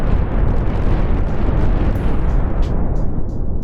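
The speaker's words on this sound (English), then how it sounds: "you can explode stuff" A dense, roaring explosion rumbles continuously in a Roblox planet-mining game, loud and close with heavy low-end debris noise and a few faint high pings near the end.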